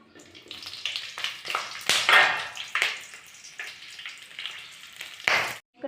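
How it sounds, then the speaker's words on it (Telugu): Green chillies frying in a pan with peanuts for peanut chutney, giving a steady crackling sizzle with sharp pops and stirring scrapes that rise and fall, then stop abruptly near the end. "దీంట్లో పచ్చిమిరపకాయలు వేసి వేయించుకోవాలి."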